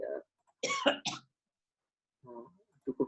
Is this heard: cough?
yes